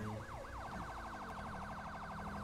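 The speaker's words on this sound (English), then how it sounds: "Some of the sirens you will hear are not FHP related, like that last one, which I can't stand, but it's in the mod, or it's in the siren pack" Police sirens from the LSPDFR video game siren mod wail steadily, the tone sweeping up and down in rapid, repeating cycles, loud and continuous, with no talk over it.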